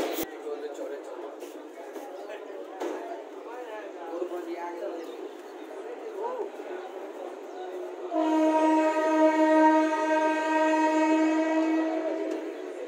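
A local train on the Raxaul to Sitamarhi line rumbles along with voices over the running noise, then a loud, sustained horn blares for the last few seconds.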